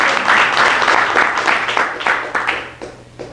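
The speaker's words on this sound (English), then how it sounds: "So let's give our mentors a round of applause." Audience applause for mentors at a startup weekend demo day, a dense wash of many hands clapping that holds steady and then begins to thin out.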